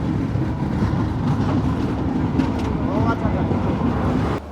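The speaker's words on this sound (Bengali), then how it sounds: "নির্ধারিত সময়ের ছাব্বিশ মিনিট দেরিতে আমাদের ট্রেনটি এখন ঢুকতেছে নাটোর স্টেশনে" Drutojan Express train pulling into Natore station in Bangladesh, a steady loud rumble of wheels and carriage noise with wind buffeting, continuing throughout and easing slightly at the very end.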